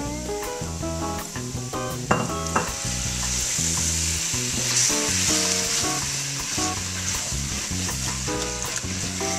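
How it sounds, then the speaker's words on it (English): Sherry poured into a hot pan for a bisque sizzles loudly, a sharp burst of hissing steam settling into steady crackling fry with utensil scrapes and clinks, heard up close. "now I'm gonna slowly add in about half a cup of sherry"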